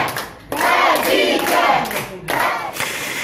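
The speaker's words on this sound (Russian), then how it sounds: "гражданские активисты и коллеги-журналисты, протестуя против процесса и с целью поддержки Хадижи, устраивают флешмоб, аплодируют" Activists and fellow journalists in a courthouse clapping and chanting in unison, loud bursts of massed applause and rhythmic shouting voices that rise and fall in waves, close and crowded.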